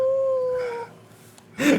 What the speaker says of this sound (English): what do you do when you hear Scoobert's howl pierce through the air?